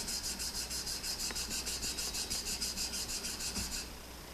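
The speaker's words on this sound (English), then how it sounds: "So use 3 fingers lightly, filing the reed like this." A ReedFile rasps back and forth over a dry woodwind reed in quick, even strokes, around twenty soft scratchy passes in a steady rhythm, close and alone before stopping.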